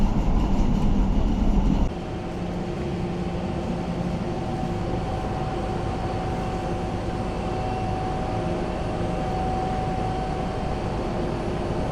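Boston subway train running underground between stops near Kenmore, a steady loud rumble and rolling roar throughout with a louder burst at the start, faint tonal whine above, no talk.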